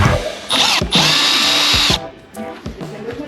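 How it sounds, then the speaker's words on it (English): A power tool spins bolts out of the rocker arm assembly on a 1976 Honda CB750 engine, in two close, loud whirring bursts of about a second each with brief clicks between them. "taking all of these bolts out so that I can get the rocker's arm off"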